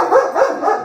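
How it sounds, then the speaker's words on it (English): Small dogs bark in a quick series of about three yappy barks, close and loud, during a race. "Oh, those little dogs."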